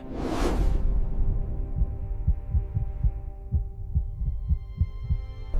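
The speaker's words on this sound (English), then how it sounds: "Only the primordial heartbeat of the earth." A low, steady heartbeat pulses in a slow, regular double thump beneath a sustained droning hum, with a soft whoosh at the start, close and resonant with no talking.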